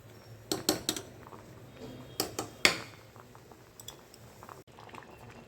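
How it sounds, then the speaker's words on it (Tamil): Raw banana boiling in a pot makes soft, steady bubbling, broken by a few sharp clinks of a lid or utensil against the pot, close and fairly quiet. "இதை கொஞ்சம் இப்போ வாழைக்காய் வெந்துட்டுருக்கு, வேகட்டும்."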